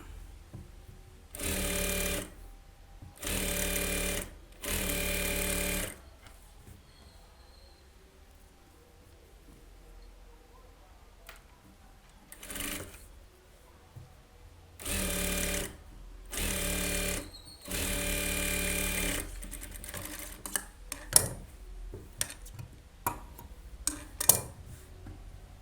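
A sewing machine stitches a blouse lining in short loud whirring bursts of a few seconds each, separated by quiet pauses, followed near the end by scattered light clicks and taps.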